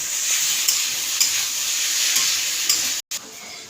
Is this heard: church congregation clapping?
no